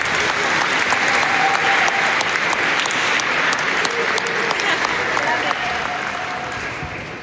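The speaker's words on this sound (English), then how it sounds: "please give yourselves a round of applause" A large audience at an evening awards ceremony honouring a democracy hero claps steadily and densely, a loud, sustained wash of applause that holds for several seconds before easing slightly at the end.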